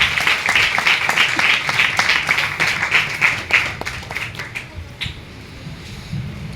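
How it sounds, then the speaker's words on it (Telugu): An audience at a religious gathering claps loudly, a dense run of rapid hand claps that gradually thins and fades toward the end. "గట్టిగా చప్పట్లు కొట్టి ప్రభుని కనపరుస్తారు."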